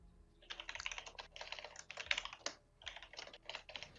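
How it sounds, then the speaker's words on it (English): Computer keyboard typing in quick bursts of clattering keystrokes with short pauses between runs, close and clear, no voices during the clip. "I am typing, yes."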